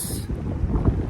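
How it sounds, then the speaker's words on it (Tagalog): Strong wind buffets the microphone outdoors, a steady roaring rush with gusty low rumbles. "lakas ng hangin sa labas"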